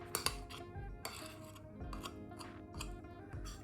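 Cooled fruit puree being stirred into a brioche dough mixture in a bowl: faint clinks and scrapes of a utensil against the bowl in an irregular rhythm, with no talking.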